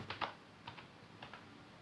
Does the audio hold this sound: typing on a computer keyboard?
yes